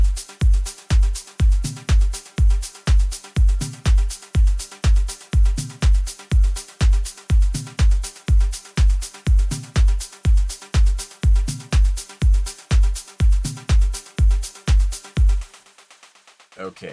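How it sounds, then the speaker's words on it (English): A steady electronic drum groove with a deep kick on every beat and bright, noisy hi-hat ticks synthesized from noise with FL Studio's 3x Osc, running in a tight repeating pattern, ending in a short decay. "how you can use noise to create a versatile hi-hat pattern"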